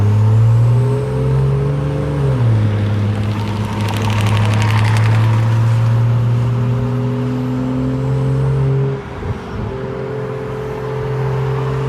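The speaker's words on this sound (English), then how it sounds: "turbo sound crazy" Turbocharged stage 2 BMW 540i with a B58 engine accelerates hard at night, a loud, steady engine drone with rising pitch that shifts through gears, and a brief dip near the end before it pulls again.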